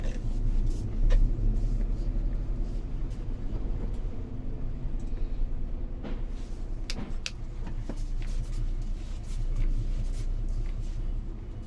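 A truck manoeuvring in the rain, a steady low engine rumble with scattered knocks and clunks throughout, fairly close and continuous.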